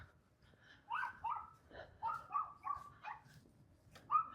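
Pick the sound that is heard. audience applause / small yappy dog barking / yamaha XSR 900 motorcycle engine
small yappy dog barking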